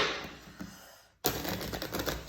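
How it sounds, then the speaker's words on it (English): Tarot cards are riffled briskly in a fast crackling burst, a brief pause, then a second rapid flurry of flicking cards up close. "another hard shuffle"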